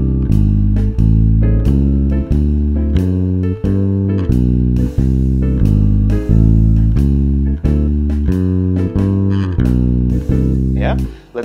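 Walking bass line using chromatic approach notes from below, starting on a C root, played over a backing track with drums and chords; steady quarter-note bass pulses stay loud and close throughout, with no talking.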